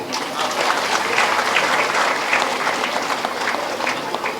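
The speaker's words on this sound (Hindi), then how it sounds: "अगर आपको समझ में आई हो तो ताली बजा सकते हैं" An audience claps throughout a devotional Ramcharitmanas singing gathering, a dense, steady wash of applause from a crowd that holds at an even, fairly loud level for the whole stretch.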